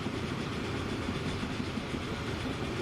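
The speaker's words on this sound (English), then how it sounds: "But there's our train, our first one. Very steamy." Low steady rumble of a steam train running in Transport Fever 2, a continuous dull rolling drone at moderate level with no distinct chuffs or voices.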